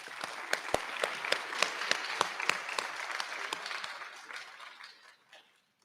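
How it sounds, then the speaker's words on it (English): Audience applause at a high school senior recognition ceremony honoring scholarship recipients, with sharp individual claps standing out over a steady wash that fades out near the end. "Let's give them a round of applause."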